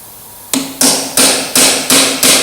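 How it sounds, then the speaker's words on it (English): A very fine chisel struck with a hammer on a part of a Ferguson TEA20 tractor: six sharp, loud metallic taps at a steady, even pace, each ringing briefly, with no talk. "I'm just going to use a very fine chisel and just try and tap it between."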